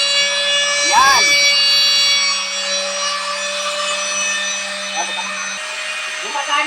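An electric sander runs off a home solar power setup, giving a steady buzzing drone with a constant tone throughout, while someone talks briefly over it.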